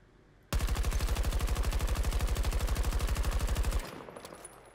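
A gun in Battlefield 2042 fires one long, loud, unbroken automatic burst of rapid, evenly spaced shots lasting about three seconds, then cuts off sharply.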